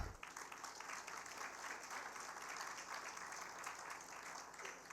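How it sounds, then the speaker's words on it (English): An audience at the official opening of a joint conference applauds, a dense, steady round of clapping heard quietly from a distance, with no talking over it. "could you just write a huge round of applause to the Dr. Mgereza"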